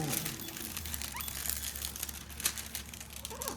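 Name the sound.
flattening a crinkled diamond painting canvas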